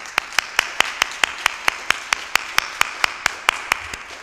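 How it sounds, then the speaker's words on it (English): During a traditional Sunday church service, sharp single claps sound close by at an even, rapid rhythm about five times a second, over a soft wash of room noise. "So let's give these ladies a big round of applause this morning."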